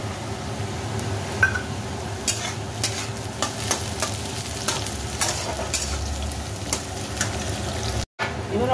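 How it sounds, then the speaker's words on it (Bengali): Cashew nuts frying with potatoes in a pan, a close, steady sizzle broken by frequent scraping stir strokes, with one brief dropout near the end. "এবার কাজু বাদামটা দিয়ে দিচ্ছি।"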